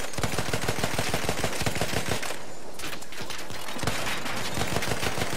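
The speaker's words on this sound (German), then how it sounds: "Oh, das ist ein Panzer, der uns da beschießt." A tank fires at a bomber in the video game Battlefield 1: dense, continuous rapid gunfire and booming impacts run almost without pause, loud and close, with a brief lull in the middle.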